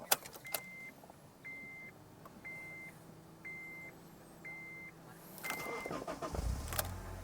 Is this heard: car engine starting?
yes